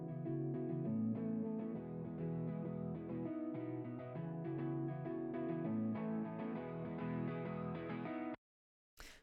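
Layered, consolidated electric guitars stacking into a dense, slightly distorted chordal build-up in a produced music track, sustained and continuous for about eight seconds before cutting off abruptly.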